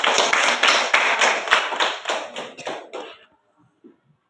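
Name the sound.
clapping for Angel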